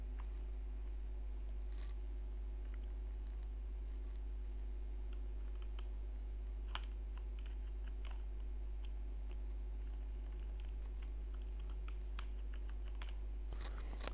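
A new password is typed on a computer keyboard, giving sparse, faint key clicks spread across the stretch over a steady low electrical hum.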